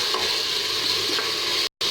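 Ginger garlic paste stirred into tomatoes frying in a pan for vegetable pulao, a steady close sizzle with soft scraping of the spoon, briefly cut to silence near the end.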